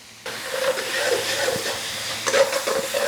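Green onions cooking down in a pan with a splash of avocado oil, fish sauce and soy sauce, a steady close hiss with small crackling spurts swelling near the end.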